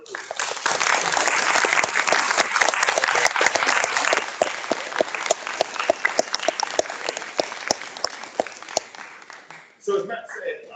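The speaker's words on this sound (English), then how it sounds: "give Matt a round of applause" An audience at a science network launch event gives a speaker a sustained round of applause, dense clapping that thins into scattered individual claps before fading, with a voice starting up at the end.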